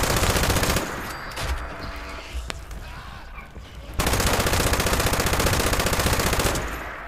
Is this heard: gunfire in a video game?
yes